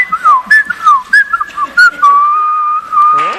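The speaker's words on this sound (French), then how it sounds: "T'as-tu déjà essayé de siffler en riant, toi?" A person whistling loudly and close, a wavering melodic line broken into short warbling phrases, then a longer sustained tone ending in a brief breathy laugh-like burst.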